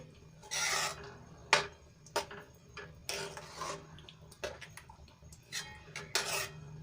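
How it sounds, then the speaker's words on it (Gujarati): Grated and cubed paneer being mixed in a pan for paneer lababdar, with short scraping and rubbing strokes of a spoon against the metal, irregular and fairly quiet, no voices. "અને બધું સરસ રીતે મિક્સ કરી લઈશું"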